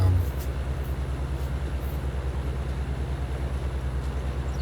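A train rolls past in the farming game Farming Simulator 19, a steady low rumble with rhythmic wheel clatter that holds at an even level throughout, a bit louder at the start.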